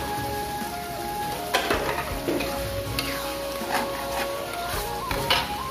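Ground spice paste for soto ayam sizzles and crackles steadily in hot cooking oil, a dense continuous fry with occasional louder pops and stirring scrapes, close by.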